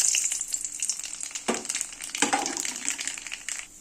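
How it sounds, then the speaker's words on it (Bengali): Nigella seeds and dried red chilies hit hot mustard oil with a bright crackling sizzle that swells in sharp bursts, close and fairly quiet with no voices. "এবার আমি তেলের মধ্যে দিয়ে দেব কালো জিরে আর শুকনো লঙ্কা ফোড়ন"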